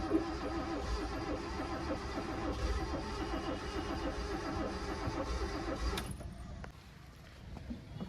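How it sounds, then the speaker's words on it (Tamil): A Hyundai i20 engine with a blown head gasket cranks steadily for about six seconds and fails to start, then cuts off abruptly, leaving near silence. "இந்த வண்டியை செல் போடுறேன்."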